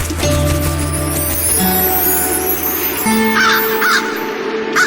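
A crow cawing over a dramatic devotional-epic soundtrack: several harsh caws stand out near the end against loud, sustained music.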